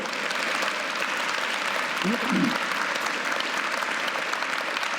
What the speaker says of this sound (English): How about a big round of applause for our fantastic panelists this morning?